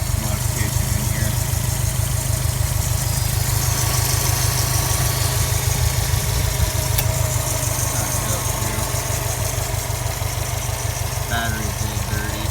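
A stock Subaru STI 2.5-liter turbo engine with a cold air intake idles steadily and close, its low, even rumble continuous throughout while a person speaks over it.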